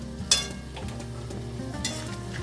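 A spice paste for a prawn and young jackfruit curry sizzles in a pan as water goes in and it is stirred, with two sharp hissing bursts over a soft, steady frying murmur.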